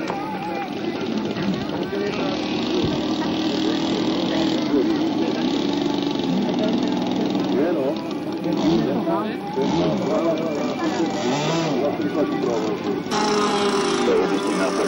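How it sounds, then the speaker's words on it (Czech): A model aircraft engine runs steadily and loudly for the whole stretch at a 1997 airshow at Bohuňovice airfield, its buzzing drone barely changing, with a voice talking faintly underneath. "Pan Prachman už nahodí motor"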